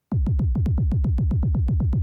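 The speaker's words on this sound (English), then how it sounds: "now it's actually a synthesized kick" Resynthesized kick drum from the Drum Clone plugin in a deep house context, a clean, punchy synthesized thump repeating at a steady, even rhythm, about seven hits per second, loud and dry.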